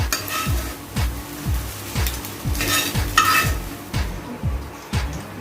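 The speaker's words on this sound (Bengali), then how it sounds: "কড়াইয়ে সাদা তেল দিয়ে দিয়েছি, একে একে চিকেনগুলো আমি ভেজে নেব।" Chicken pieces fry in white oil in a wok, hissing steadily while a spatula scrapes the metal in a regular rhythm of strokes, close and loud with no voices.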